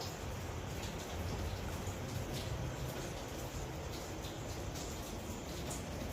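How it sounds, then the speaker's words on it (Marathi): Heavy rain pours down steadily, a dense, even hiss of drops hitting surfaces without pause. "पाऊस भरपूर चालू आहे"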